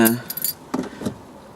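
Car keys for a Mercedes CLK 500 jangle close by in a few quick metallic bursts, followed by a couple of lighter clinks and then quiet.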